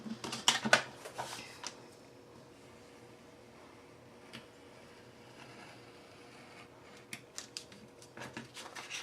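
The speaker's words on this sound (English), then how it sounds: "I'm gonna get my craft knife and I'm just gonna cut this out." A craft knife cuts out a card roof piece for a large design house model, giving a cluster of sharp scraping and clicking strokes at the start, a few isolated scrapes later, then another burst near the end, close and quiet.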